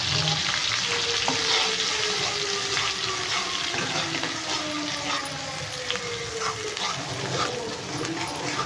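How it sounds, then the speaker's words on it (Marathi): Spiced puree masala for a paneer dish being mixed in a hot pot, a steady, dense sizzling and scraping hiss throughout with faint stirring strokes, close and continuous. "तर आता हे आपण चांगलं मिक्स करून घेऊया"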